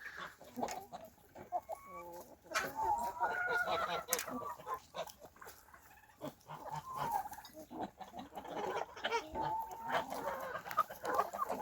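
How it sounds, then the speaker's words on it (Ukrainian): Several chickens cluck and murmur continuously nearby, with overlapping calls and scratching noises throughout. "Різні породи курей."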